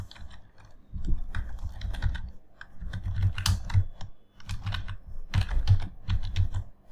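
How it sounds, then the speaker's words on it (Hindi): Someone types on a computer keyboard in bursts of quick, close, clicking keystrokes separated by short pauses, with no voice. "और अब मैं टाइप करता हूँ"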